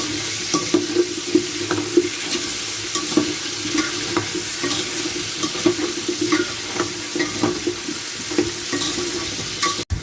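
Food stirred in a sizzling frying pan, a steady loud fry hiss with repeated scraping strokes of a spatula, close and continuous, ending with a sharp knock.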